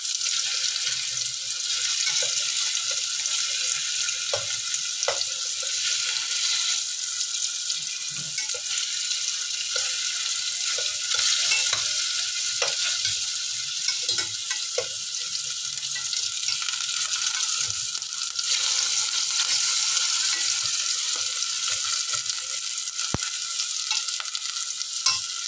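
Tofu fries and browns in a pan, a steady close sizzle that runs on without a break, with faint clinks of stirring and no voices.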